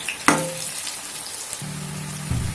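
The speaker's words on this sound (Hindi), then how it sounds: "तेल जब अच्छी तरह से गर्म हो गई है तो ये सारे कटहल को इसमें डाल करके मैं इसे फ्राई कर लूँगी" Jackfruit pieces dropped into hot oil, a sharp splash at the start followed by a steady hiss of frying close by, with a couple of faint clinks and no talking.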